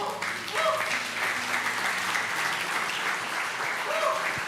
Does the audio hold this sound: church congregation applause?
yes